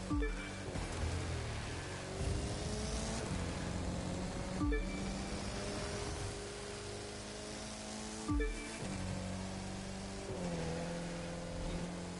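A Bentley race car in the racing video game The Crew 2 revs hard, its engine note climbing through several gears with sharp shift breaks and repeated surges of acceleration.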